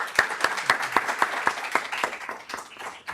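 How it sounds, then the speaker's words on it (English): Audience applause at a startup panel talk, a brief burst of even, rapid claps from a modest crowd that tapers off after about three seconds. "let's give a round of applause to our team right here"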